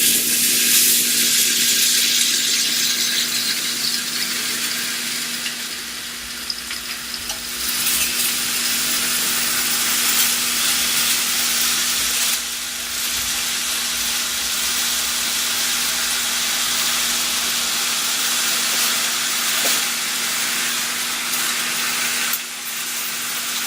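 Bacon strips, about six pieces, fry in a pan to render their fat, giving a loud, steady sizzle and hiss throughout with a few brief scraping shifts and no talking.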